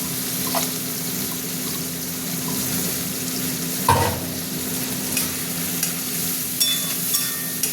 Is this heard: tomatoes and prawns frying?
yes